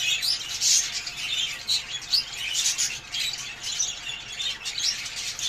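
Budgerigars in a breeding setup chirp and twitter continuously in a busy, high-pitched chorus, fairly close and steady throughout with no talking.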